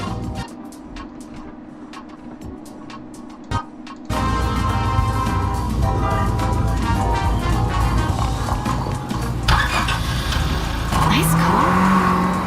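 Car engine revving with tire squeal in the video game Neverness to Everness; quieter engine sound with sharp clicks, then a sudden louder sustained roar of revving and screeching tires, with speech over parts of it.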